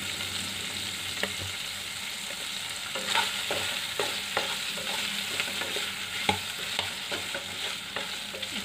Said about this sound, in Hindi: इसको उलट पलट कर पका लेना है ताकि हर तरफ से अच्छा सा कलर आ जाए।